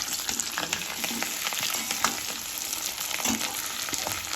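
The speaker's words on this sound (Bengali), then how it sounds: "আলুটি আমার দেখুন লাল লাল ভাজা হয়ে গেছে।" Boiled potato pieces fry in hot oil for an egg curry, a continuous soft sizzle broken by gentle scraping stirs at intervals, heard close and with no talk over it.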